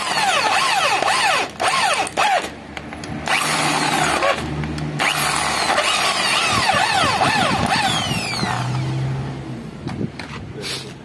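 A power drill with a 6.5 mm bit bores into a seized brake disc nipple bolt, whining in repeated bursts that rise and fall in pitch, with short pauses between runs and a close, loud motor tone.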